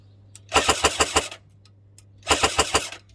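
An A&K PK airsoft light machine gun fires two short bursts at its slow rate setting, each about five evenly spaced sharp shots, close up, with a brief pause between.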